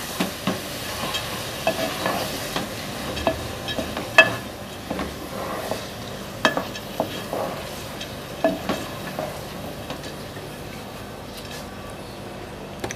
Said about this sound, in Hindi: ऐसे इसको मसाले के साथ अच्छी तरह हिला दें।